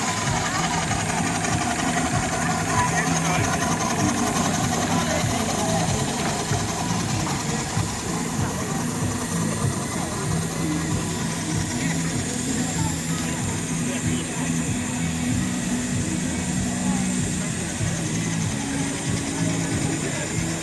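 A small-scale model steam traction engine chugs and clatters steadily throughout, with rhythmic mechanical knocking and a busy outdoor fairground arena background at the Isle of Wight Steam Fair; voices are audible over it.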